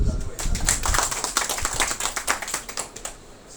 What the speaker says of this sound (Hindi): एक बार ताली के लिए बजा दो भाई।